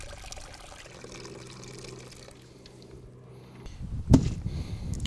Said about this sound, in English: we'll just continue to decanting using the stick that we've stirred with to help stop the beans from coming